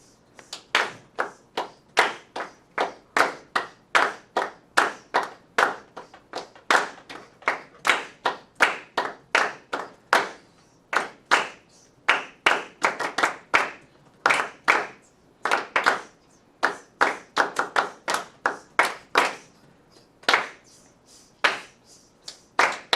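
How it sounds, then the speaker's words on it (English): Steady eighth-note hand clapping from a group in a music class, dozens of crisp, evenly spaced claps running continuously and loud, with no talk. "Clap and sizzle 8 notes"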